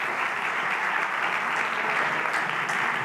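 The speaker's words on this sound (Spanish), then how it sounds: "Un aplauso para los tres." An audience at a Spanish science talk claps steadily, a dense, even wash of applause from many hands filling the whole stretch with no pause.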